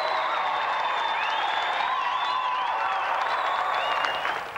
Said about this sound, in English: Another round of applause for our gallant competitor, Peter Walters.